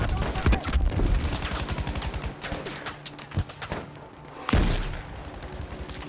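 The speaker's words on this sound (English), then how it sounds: "Man, we're under some heavy fire here." Heavy gunfire in the video game Battlefield V: dense rapid bursts of automatic fire and sharp shots crackle close and loud, with a heavy blast near the end.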